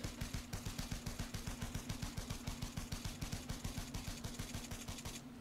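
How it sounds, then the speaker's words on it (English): A pistol in the Elite Dangerous Odyssey video game fires a rapid, evenly spaced stream of shots for several seconds, loud and continuous, cutting off just before the end. "One clip of the pistol has nearly destroyed it"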